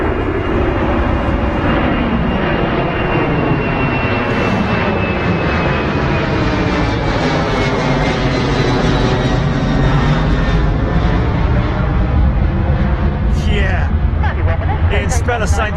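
Departing jet airliner climbing out of Heathrow Airport under a low cloud base in mist, a loud continuous engine roar that swells and slowly shifts in pitch as it passes.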